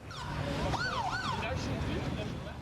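Ambulance siren at a nighttime shooting scene, a loud wailing rise-and-fall tone sweeping up and down, close and continuous over traffic rumble.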